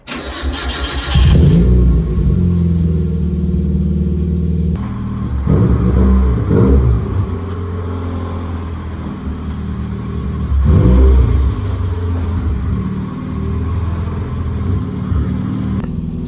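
A Mazda Miata's engine cranks and catches, then runs loud and close at a steady idle with a couple of brief revs.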